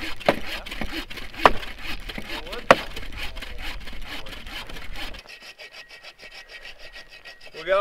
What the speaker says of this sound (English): Alright, you guys can grab some little hand saws now.